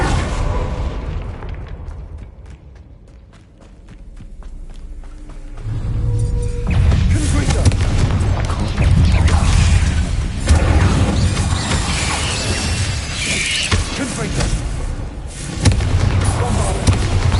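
Confringo fire-spell explosions in Hogwarts Legacy: after a quieter stretch of faint ticking, a heavy booming blast erupts and sustains as a dense, loud, fiery rumble with crackling bursts through to the end.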